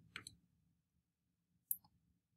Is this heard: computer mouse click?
yes